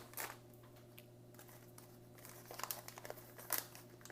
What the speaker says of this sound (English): Oh, it does have a little tear at the top. Rip it open.